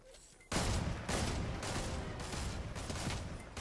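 Dense bursts of rapid gunfire in Fortnite's Knockout Shuffle mode start abruptly and continue as a loud, sustained fusillade with repeated heavy booms, no talking.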